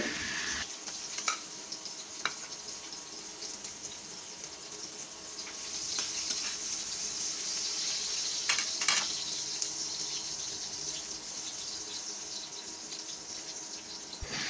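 Chopped onions fry in hot oil in a pan while cooking pumpkin and Malabar spinach, a steady broadband sizzle with occasional stirring scrapes, brightening around the middle and running alone without talk.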